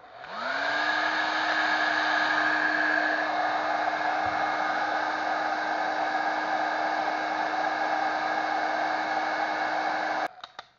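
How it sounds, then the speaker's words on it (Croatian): A repaired hair dryer switches on, quickly spins up and holds a loud, steady whirring blow with a constant motor hum, then cuts off abruptly near the end. "palimo ovaj fen da vidimo da li radi"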